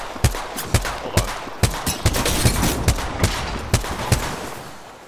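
G7 Scout rifle firing in Apex Legends: about ten sharp, evenly spaced single shots in a steady rhythm, close and loud over continuous game background noise, with no talking.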